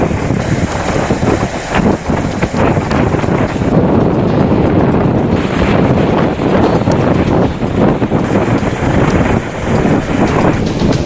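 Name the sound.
strong wind blowing over rough sea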